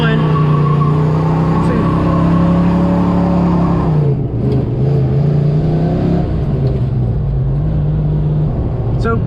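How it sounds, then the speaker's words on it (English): Manual car in first gear doing a burnout as the clutch is dumped, engine revving loud and steady close by, then a dip in pitch as the clutch drops, with the engine roaring on under faint talk. "I was in first gear and I was giving it some gas and I just dumped the clutch. So that was how you do a burnout."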